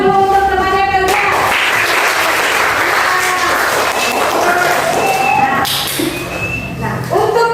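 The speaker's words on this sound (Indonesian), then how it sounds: "Tepuk tangan dulu untuk temannya kalian." Schoolchildren in a classroom clap for a classmate, loud scattered applause mixed with voices and bright tonal sounds, thinning out near the end.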